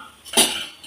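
A spoon scrapes and clinks briefly against a pot while stirring tomato and tamarind, one short close metallic stroke.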